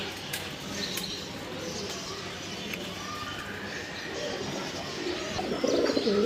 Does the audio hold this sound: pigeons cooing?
yes